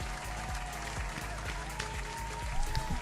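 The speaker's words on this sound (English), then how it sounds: "Give this man a round of applause" A live crypto trading stream fills with a round of applause: continuous, dense clapping from many hands that holds steady throughout and swells slightly near the end, with faint crowd noise beneath.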